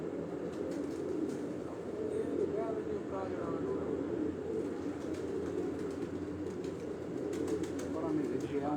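Pigeons settle on a rooftop in Rawalpindi at evening, cooing in a soft, continuous murmur beneath ongoing conversation and general outdoor background noise.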